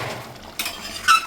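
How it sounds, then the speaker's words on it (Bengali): A spoon mixes Sunrise spice mix into boiled potatoes in a pot for Kashmiri aloo dum, with a couple of metallic clinks and scrapes against the pot. "তারপর সানরাইজ মশলাটাকে ভালো করে মিশিয়ে নিচ্ছি।"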